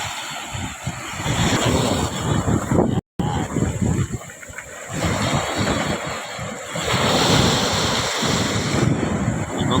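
Sea waves wash onto a beach, a steady broadband surf rolling in and out with gusts of wind buffeting the microphone throughout, loud and close, with no talking.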